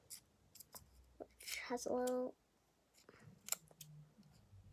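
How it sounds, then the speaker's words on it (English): Scissors snip a small circle out of paper in a short burst of crisp cuts, close and fairly quiet, with a person talking softly before and after. "See, I cut out a tiny little circle,"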